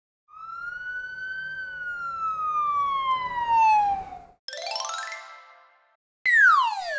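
A cartoon police car siren wails and sweeps in a children's colors song, loud and close, with a falling tone followed by shorter whooping bursts and no singing over it.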